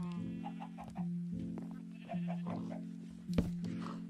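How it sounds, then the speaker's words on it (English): Minecraft chickens cluck in a steady, repeating pattern over a constant background drone, with a brief sharp click near the end and no talking. "Finally found some chickens."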